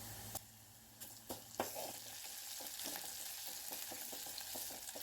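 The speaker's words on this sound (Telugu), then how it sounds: "ఆయిల్ వేసి వేడెక్కాక ఉల్లిపాయలు పచ్చిమిర్చి వేసి అవి ఎర్రబడే వరకు వేసుకోవాలి." Onions and green chillies frying in hot oil, a steady close sizzle with occasional stirring clicks and scrapes of a spoon against the pan, no voices.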